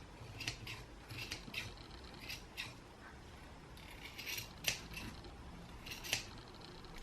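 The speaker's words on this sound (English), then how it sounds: "you can trim off any excess bits and pieces just to tidy up your pom-pom" Scissors snip loose ends off a yarn pom-pom, a series of crisp, close cuts in small clusters over quiet background.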